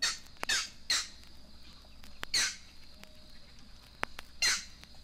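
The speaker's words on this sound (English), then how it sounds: "And a green heron sounds his raucous call." A green heron gives raucous calls in evening woods: four harsh, short squawks spaced about a second apart, moderately close, with faint clicks between them and a quiet background.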